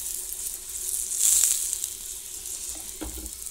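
Aloo paratha sizzling in oil and desi ghee on a pan, a steady close crackling fry with a brief louder hiss midway and a soft scrape near the end.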